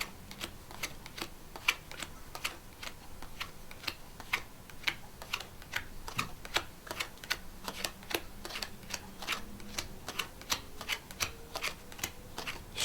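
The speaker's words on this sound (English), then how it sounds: "So I'm going to start dealing cards face up." Playing cards are dealt one by one face up onto a table for a magic trick, making a steady run of soft, quick flicks and taps that repeat evenly and stay faint and close.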